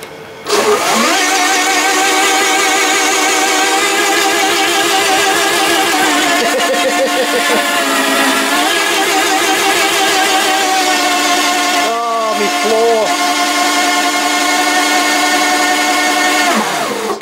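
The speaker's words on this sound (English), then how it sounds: "48 volt scooter, would you care to do a burnout please, Pickle?" A loud, sustained high-pitched electric motor whine with rising and falling pitch as a 48-volt electric scooter with an upgraded brushless controller does a burnout, wheel spinning hard against the ground, continuous throughout.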